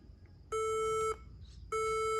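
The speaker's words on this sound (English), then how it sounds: "and there is a beep sound." Two sharp laptop error beeps, each a steady tone lasting about half a second, separated by a short pause over faint background hiss.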